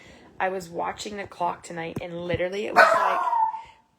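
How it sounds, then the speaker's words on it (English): A puppy barks and yips repeatedly, loud and close, in short bursts overlapping someone talking indoors. "He is barking like crazy."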